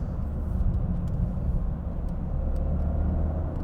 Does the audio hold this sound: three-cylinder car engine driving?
yes